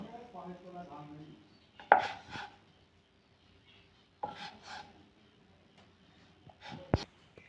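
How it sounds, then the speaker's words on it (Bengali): Knife chopping through egg biscuit dough on a board, several sharp separate cuts spaced a few seconds apart, close and fairly quiet, with no talking. "এবার এটা কেটে নেব।"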